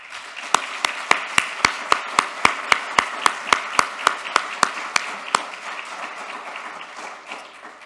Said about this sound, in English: So a round of applause for you, Bent.